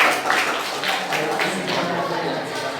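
Students in a classroom clap their hands together in a dense, continuous round of applause that lasts about three seconds and holds at an even, fairly loud level.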